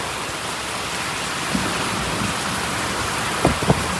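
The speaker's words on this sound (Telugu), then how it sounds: "ఇదే వర్షం మా ఊర్లలో కనబడితే" Heavy rain pours in a dense, steady hiss, with a few faint knocks near the end and no voices.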